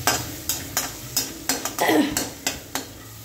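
Raw ground spice paste fries with garlic for a safflower-leaf vegetable dish, under a soft sizzle while a spatula scrapes the pan in regular, rhythmic strokes about twice a second. A voice says a single word.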